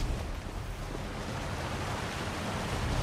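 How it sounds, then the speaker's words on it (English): Steady rushing water from a waterfall in a fantasy video game, a broad constant roar with no breaks, moderately loud and alone. "I hear a waterfall"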